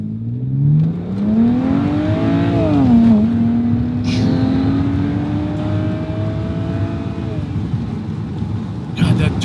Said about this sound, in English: you hear the turbo more with the roof down, but you hear it more than the exhaust